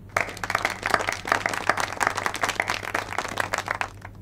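Office colleagues break into a round of applause for a new employee who has performed well after two weeks at the company, in a Telugu film scene; steady, fairly close clapping from a small group runs throughout with no speech.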